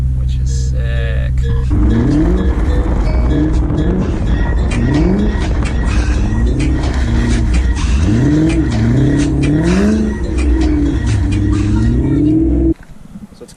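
A BMW E34 540i on a frozen 12-degree day runs loudly close by, its engine revving up and down in repeated swells after starting in the cold, then dropping abruptly to a quieter idle at the end.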